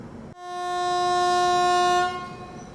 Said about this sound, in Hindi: मात्र 2 मिनट के अंदर डिपार्चर हो गया यहाँ से।